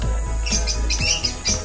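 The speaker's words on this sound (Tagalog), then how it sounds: "Medyo maingay lang na sa ibon," Lovebirds chirp and squawk in quick repeated bursts, loud and close, over a constant low hum of background noise.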